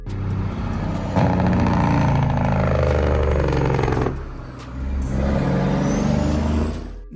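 A truck's engine brake (Jake brake) lets out two loud, close, rattling bursts, the first long and steady and the second shorter after a brief dip, over a deep engine rumble.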